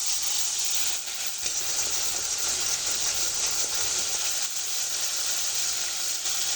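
Spice paste sizzling in oil in a pan, with a little water added, giving a loud, steady hiss and crackle close up and alone, no voices.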